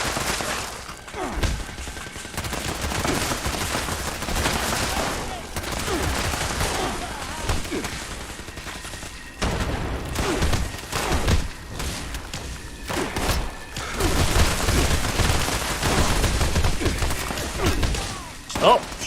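Sustained gunfire in a Fallout 76 fight, dense rapid shots and thuds rolling on loudly for many seconds with occasional heavier impacts and brief lulls, with voices faintly mixed in.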